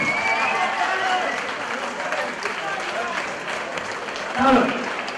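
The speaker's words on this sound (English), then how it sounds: "Please make some noise for the winner, Michael Hughes." Crowd cheering and applauding for the winner after a unanimous-decision boxing match at a club venue in Leicester, a dense steady roar of clapping and shouts throughout, with a louder swell near the end.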